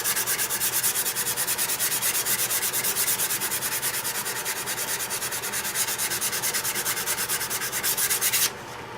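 Steady rubbing rasp of 180-grit sandpaper held against turned wood spinning on a lathe spindle, moved back and forth in an even, continuous rhythm, close and fairly loud, ending abruptly near the end.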